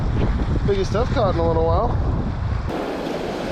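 Cross-shore wind on a beach in Eleuthera, Bahamas, rushing steadily into the microphone with surf behind it, while someone talks over it.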